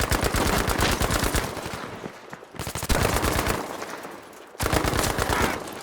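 Loud automatic gunfire from a Battlefield 5 Firestorm gunfight rips out in three close, sustained bursts of rapid shots, each separated by brief lulls.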